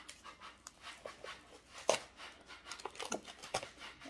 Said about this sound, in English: My puppy's behind me.